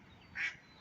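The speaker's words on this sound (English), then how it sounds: "there's a duck down here" A duck gives one short, clear quack by a river, standing out briefly over quiet background ambience.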